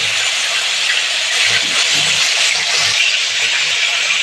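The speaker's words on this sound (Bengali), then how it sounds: "মাছটা আমি বেশি ভাজবো না, হালকা ভাজবো" Pomfret fish frying lightly in oil, a loud broad hissing sizzle that runs steadily throughout with faint low knocks beneath and no voices.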